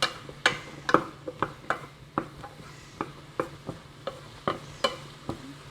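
Mushrooms sautéing with oregano in a pan, a low background sizzle punctuated by regular sharp clacks of a spatula against the pan, steady rhythm about twice a second, close and alone.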